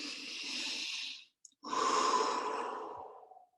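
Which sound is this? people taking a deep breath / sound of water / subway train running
people taking a deep breath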